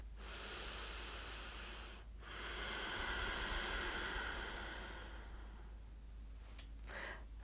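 During a yoga session, a slow deep breath drawn in, a brief pause, then a long airy exhale, close and soft, ending with faint rustling.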